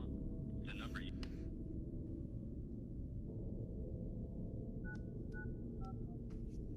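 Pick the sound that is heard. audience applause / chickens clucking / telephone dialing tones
telephone dialing tones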